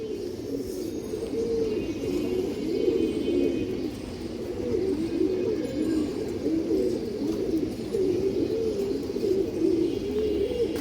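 Pigeons coo in a soft, continuous warbling chorus, several birds overlapping in rolling, throaty calls that carry on steadily at an even level from start to finish.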